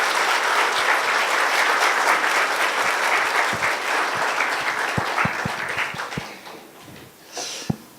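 Symposium audience applauds to welcome Professor Choi Jae-chun, a loud, full burst of clapping that gradually thins and fades, leaving a few scattered claps near the end.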